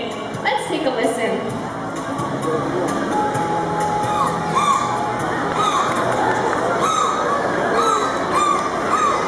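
A dolphin singing during a Marineland show, its squeaky rising whistles repeating over the steady murmur of a crowd.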